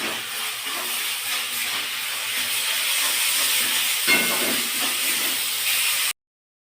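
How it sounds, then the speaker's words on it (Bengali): Grated coconut cooking with jaggery in a pan, giving a continuous bubbling, steamy hiss close up with occasional scraping stirs, steady and fairly loud before cutting off abruptly, with no talk. "সমস্ত নারকেলটা আমি এর মধ্যে দিয়ে দিচ্ছি, দিয়ে এটা ভালোভাবে আমি নাড়তে থাকবো।"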